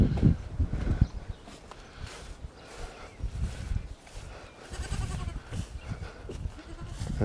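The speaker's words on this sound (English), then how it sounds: "We got a lot of little goats." Small farm goats, including newborn kids, bleat and shuffle nearby, irregular bursts of bleating and hoof thumps over a low rumbling background, moderately close and without speech.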